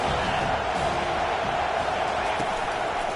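A stadium crowd roars steadily throughout a big third-down defensive stand in an American football video game featuring Miami, a dense, continuous wash of cheering with no breaks.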